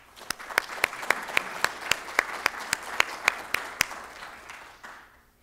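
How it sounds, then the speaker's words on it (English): A conference audience applauds in a steady wash of many hands, with a few sharp, loud nearby claps standing out in a regular rhythm for about five seconds before it stops. "I would like to ask if you just give them a round of applause, please"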